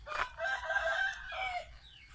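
A fighting rooster crows once, loud and close, its drawn-out call trailing off near the end over low background noise.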